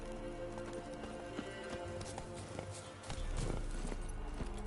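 Hooves of the horse Roach in The Witcher 3 clip-clop steadily at a trot over ground, with game ambience beneath and a louder, denser rush of movement in the last seconds.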